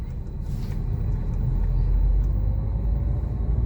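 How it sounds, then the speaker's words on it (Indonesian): Low idling engine rumble of vehicles sitting close together in a traffic jam on Jalan Merdeka, with a brief hiss of air brakes and a steady drone of nearby traffic. "Ini macet di Jalan Merdeka."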